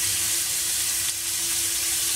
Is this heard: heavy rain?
no